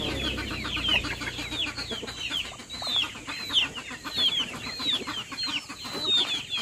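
Rhode Island Red chickens, a hen seemingly ready to lay, cluck repeatedly and steadily at close range, with a rhythmic series of calls over a busy farmyard background.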